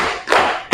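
A class of vocational high school students claps in unison on a count, a smeared burst of claps followed by one crisp, loud clap at the end.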